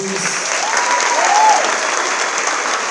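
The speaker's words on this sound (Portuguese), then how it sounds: "Quem gostou da palestra do pastor Márcio, aplaude aí" A church audience applauds pastor Márcio's talk on couples, a loud, sustained wash of clapping from many hands, with a voice briefly rising through it.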